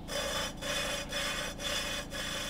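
Engine valve being lapped by hand against its seat with grinding paste, a steady gritty rubbing that swells and breaks off in regular back-and-forth strokes about every half second, close and fairly quiet.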